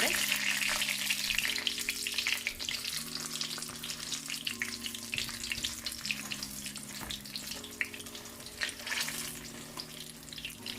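Jamaican saltfish fritters made with codfish frying in hot oil, a dense continuous crackling sizzle close up, with a soft melodic tone drifting underneath throughout.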